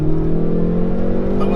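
A 2019 Hyundai Veloster N with a performance pack, 275 horsepower and active exhaust lets out a strong, close engine drone, revving with rising tonal harmonics that hold steady through a short burst.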